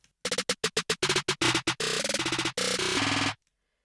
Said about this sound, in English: We have this snare roll, which sounds like this.